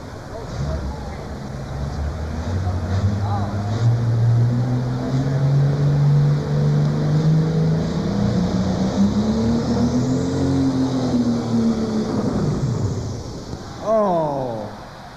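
A heavy 10,500-pound super stock pulling tractor engine roars and drones steadily, its pitch climbing and falling as it strains under load, loud and close throughout.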